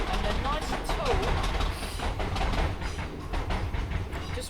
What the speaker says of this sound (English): Just wait for the train to go past.